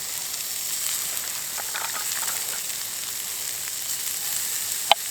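Meat frying in a pot over a small Bushbox LF wood-burning stove outdoors in cold weather, a steady soft sizzle with faint crackles and one sharp tap near the end.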